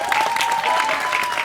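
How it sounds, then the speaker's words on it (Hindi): Loud, steady applause from a live audience at a film teaser launch event, dense clapping filling the whole moment without letup. "एक बार जोरदार तालियां वरुण के लिए।"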